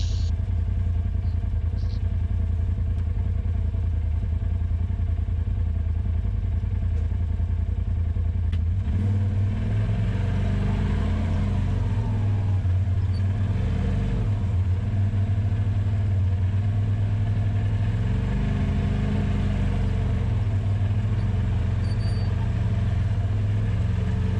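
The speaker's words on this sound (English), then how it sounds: "Boys in the Honda Talon here, they got right up without hardly even slipping a tire." Honda Talon side-by-side engine pulling up a trail climb on a falls ride, a steady close low drone that deepens and swells after the first few seconds and keeps running throughout, with rattling and clatter mixed in.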